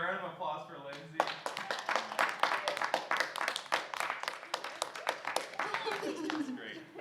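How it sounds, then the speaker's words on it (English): A crowd at an art show claps in a quick, uneven patter after a voice speaks, the applause close and lively and mixed with chatter and cheers. "Everybody, a round of applause for Lindsay."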